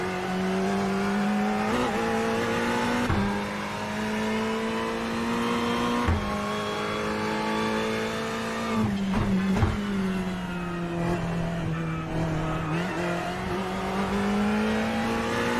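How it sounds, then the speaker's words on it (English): A Ferrari GT3 race car in the iRacing sim holds a steady, loud engine drone that rises and dips slightly with gear changes and throttle, with occasional sharp knocks, and no one talks. "It's just a Ferrari GT3."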